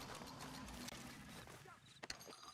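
Horse hooves clopping in Red Dead Online, a rapid run of soft hoof beats under a steady bed of game ambience, fairly close, with a few sharper knocks near the end.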